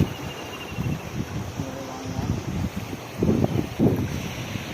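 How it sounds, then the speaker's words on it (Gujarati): Waves surge on a flooded river swollen by very heavy rain in Kutch, a rough rushing wash buffeted by wind noise, with a voice talking over it in bursts. "મોજા ઉછળે મોજા ત્યાં જો મોજા ઉછળે"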